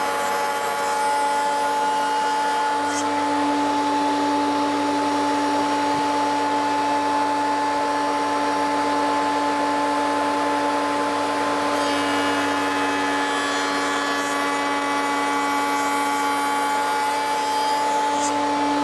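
Wood router running continuously while cutting tongues on the ends of door rails for a Shaker-style door, a steady loud whining drone with strong tonal hum and shifts in texture as the bit moves through the wood.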